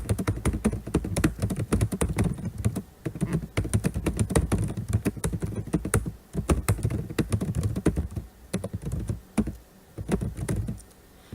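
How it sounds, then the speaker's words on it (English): Rapid clicking keystrokes on a computer keyboard, close and continuous with brief pauses, typing words in all caps. "So I type that all in caps here after the words Running Head."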